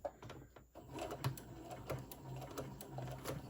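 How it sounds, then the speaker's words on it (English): A domestic sewing machine stitching around the edge of a Christmas stocking, back-stitching at the start; faint, quiet whirring with small clicks and thumps, no voice over it. "I'm going to sew all the way around, back stitch at the beginning and the end."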